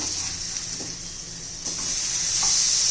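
Eggplant slices for a spicy garlic brinjal fry sizzling steadily in hot oil in a pan, with a continuous close hiss that grows slightly louder as more oil goes in and the pieces are turned.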